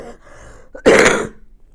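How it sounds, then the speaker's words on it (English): A single short cough or throat-clear from a person, fairly close and loud, preceded by faint room noise. "Excuse me, I have to cough."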